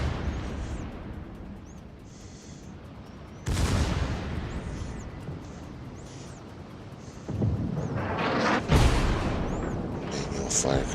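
Secondary guns of the battleship Nelson firing in a naval warfare video game, several heavy booming blasts with long rumbling tails over a steady background roar.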